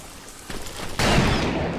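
Gunfire from the video game Call of Juarez: Gunslinger erupts in a rapid burst that swells into a loud, sustained volley of shots.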